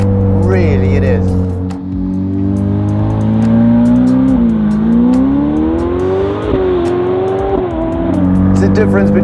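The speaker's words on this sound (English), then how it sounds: "It's easy to drive this fast. It honestly is easy. It's so ridiculously quick." A Novitec Ferrari F8 N-Largo supercar accelerates hard, its loud engine note rising and shifting through gears under someone talking from inside the cabin.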